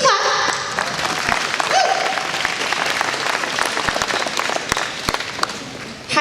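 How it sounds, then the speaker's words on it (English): An audience applauding at a luncheon, a burst of dense clapping from a roomful of people that stays steady for several seconds before thinning out, with some voices mixed in. "We can clap."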